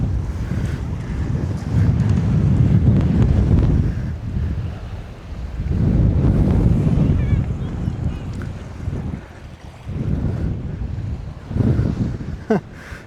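Strong coastal wind buffets the microphone on Saaremaa in loud, rumbling gusts that swell and fade in waves over about thirteen seconds, with brief faint voices between the bursts.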